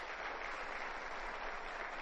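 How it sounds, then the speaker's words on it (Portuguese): Dense, steady applause from an audience at a gathering, continuous clapping throughout with no break, moderately distant. "Eu peço inclusive um aplauso para eles."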